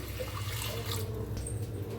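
A short burst of water poured steadily from a small metal pot into a pressure cooker, close and splashy, lasting about two seconds with no speech.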